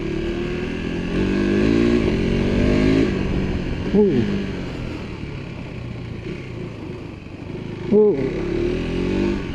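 A KTM 390 Adventure R engine drones steadily while the rider downshifts on the move. Two sharp rev blips rise above a continuous engine and wind roar.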